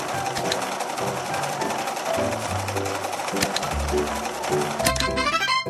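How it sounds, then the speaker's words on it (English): Sewing machine stitching clothes in a girls' fashion dress-up video game, a rapid mechanical whirring chatter with a repetitive stitching rhythm, overlaid with musical tones and game chimes, ending on a bright sparkle effect. "Now let's sew the pieces together"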